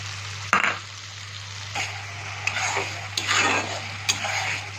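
Chili, ginger and garlic paste frying with green peas in a pan, a close, steady sizzle broken by several clinking spoon-against-pan stirs, over a low constant hum and without talk.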